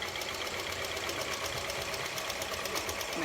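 A sewing machine stitches back and forth over a piece of nylon stocking laid on fabric, a steady continuous whirring hum with a fast mechanical rhythm running throughout.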